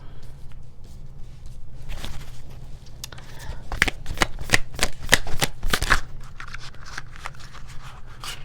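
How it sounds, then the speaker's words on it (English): Tarot cards being shuffled close up, a burst of rapid papery riffling flicks that swells in the middle and then trails off into lighter handling, with faint speech underneath. "Let me go ahead and reshuffle"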